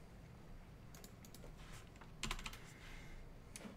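Someone types on a computer keyboard in a quiet room. The keystrokes are soft and come in scattered short clusters, with a couple of sharper clicks over faint background hiss.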